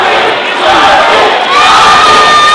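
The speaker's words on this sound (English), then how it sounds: "Look at the crowd roaring." A basketball arena crowd roars and cheers loudly and without a break during an ABL 2013 game between the Westports Malaysia Dragons and the San Miguel Beermen. The dense roar swells slightly partway through.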